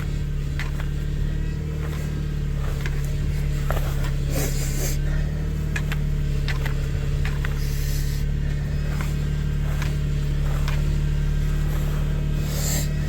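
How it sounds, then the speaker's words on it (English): A failing power steering pump on a 2001 Subaru Outback whines steadily under a constant engine hum, close up, with faint clicks and rattles scattered through. "that is an unhappy power steering pump"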